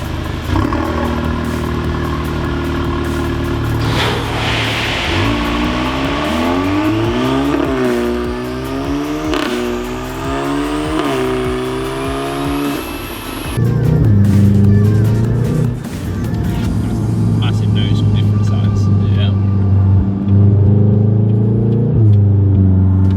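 A car engine revs hard through repeated rising and falling sweeps, then settles into a loud, steady drone with off-throttle overrun. The engine stays close and dominant throughout, with occasional voices underneath.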